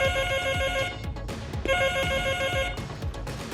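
A telephone rings with an incoming call, a repeating electronic ringtone in two bursts over a busy background of thumping, rattling noise, with no talk.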